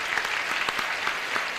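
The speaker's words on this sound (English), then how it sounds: "Let's have a little applause for these ladies." Steady applause from a game show studio audience greeting two female contestants, dense clapping at a constant level throughout with no speech over it.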